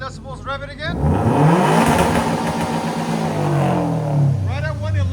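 Loud revving from a 2015 Subaru WRX STI with downpipes and a Flowmaster Flow FX exhaust, a sustained rising and falling engine roar lasting several seconds, with brief voices at the start and end.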